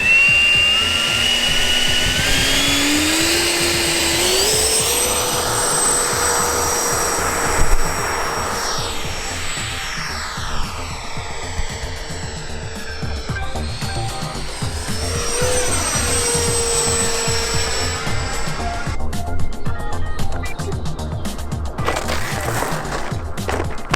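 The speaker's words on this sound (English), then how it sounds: "over to another field to visit Norm, who was flying one of his very expensive jets" A very expensive model jet aircraft flies over a field with a loud, steady engine whine that rises and falls in pitch as it passes overhead and banks, heard alone without talk.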